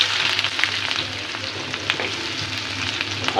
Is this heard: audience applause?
no